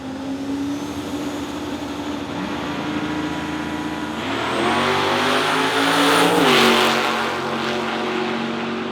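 A powerful car engine roars and revs hard as it accelerates down the strip, pitch climbing through gears, loud and close, then fading slightly.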